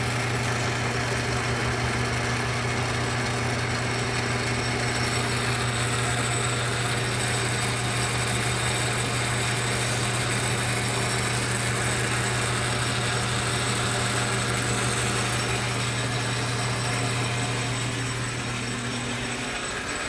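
A metal lathe turns a part for a Stihl 026 chainsaw build, giving a steady, continuous mechanical whir with a constant motor hum and faint cutting noise throughout, close by, with no talking.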